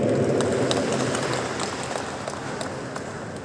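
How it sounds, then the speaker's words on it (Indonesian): At a formal dinner for kings and sultans in Gedung Sate, guests applaud the governor of West Java in a dense, steady wash of clapping that gradually thins out. "berikan tepuk tangan yang paling meriah"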